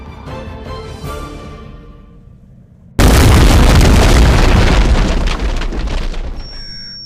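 A gunpowder barrel explodes with a sudden, loud, deep blast that cuts off a quieter tonal passage, followed by a sustained roaring rumble and crackle that slowly fades.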